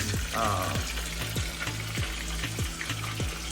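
Plantains frying in very hot oil for Colombian patacones, a steady close sizzle with bubbling crackle and regular stirring or scraping knocks throughout.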